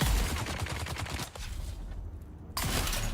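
Rapid bursts of gunfire from the Dune Awakening video game, several close, loud shots in quick succession, then a short lull before another loud burst.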